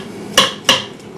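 Metal fork scraping small wild grapes off their clusters into a bowl, two sharp close clinks about a third of a second apart and then a faint tap, with quiet room tone between.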